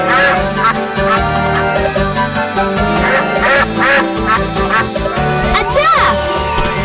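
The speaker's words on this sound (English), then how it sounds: "A duck! It's Ducky the duck!" A cartoon duck, Ducky the big yellow duck, quacks repeatedly in a lively rhythm, loud and close, over bright background music and sound effects.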